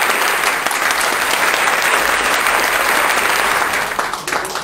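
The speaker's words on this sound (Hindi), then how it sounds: "आइए एक बार जोरदार तालियों से ऐसे ही कलम के सिपाही शिवम सिंह सिसोदिया को आमंत्रित करते हैं।" A loud, dense audience applause greets a young poet at a Hindi poetry gathering, continuous and close throughout with a slight dip near the end.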